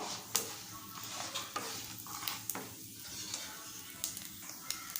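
Urad dal, chana dal and asafoetida fry in hot oil in a pan while a spoon stirs them, giving a steady close sizzle broken by scraping clinks of the utensil.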